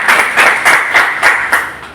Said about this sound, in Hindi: तो अपने लिए ताली बजा सकते हैं, खुद के लिए ताली बजा सकते हैं